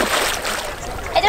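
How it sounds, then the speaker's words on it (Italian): Sea waves splash and slosh below at the seaside, a steady broadband wash that swells again near the end, with a voice speaking over the water. "Si sente delle onde di mare qui sotto."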